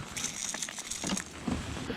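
Rain falls lightly on a winter lake during kayak bass fishing, a soft, steady patter of close drops with no voices.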